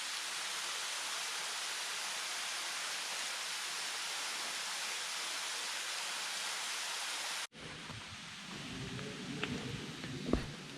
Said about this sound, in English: It is so peaceful listening to the water.